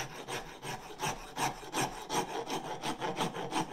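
A horseshoe rasp shapes a wooden handle in close, rhythmic rough strokes, about ten back-and-forth scrapes in a steady cadence with no talking.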